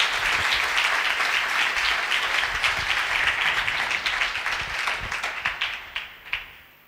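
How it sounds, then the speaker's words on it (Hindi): A church congregation claps in sustained, dense applause that thins out into scattered final claps near the end. "आओ मुकद्दसा मरियम की शान में तालियां बजाएं जोरदार।"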